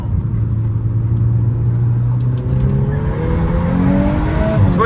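A tuned Stage 1 Flexfuel car on a Gen4 engine drives in drift mode, its deep, steady engine drone rising in pitch as it accelerates and slides, heard from inside the car with no talking.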